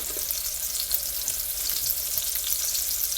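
Close, steady sizzle of a T-bone steak frying in butter and seasoned oil, a dense continuous hiss with small pops and crackles throughout.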